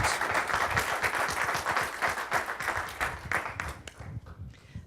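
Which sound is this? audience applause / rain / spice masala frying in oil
audience applause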